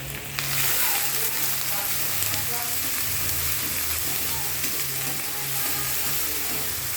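Onion paste frying in a small amount of oil with salt added, a continuous close sizzle and crackle with occasional stirring scrapes, no voices.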